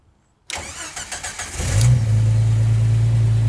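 A Jeep engine fitted with an AX15 transmission cranks on the starter after a moment of silence, then catches and settles into a loud, steady running hum.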